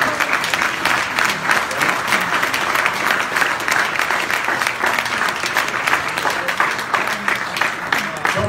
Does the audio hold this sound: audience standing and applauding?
yes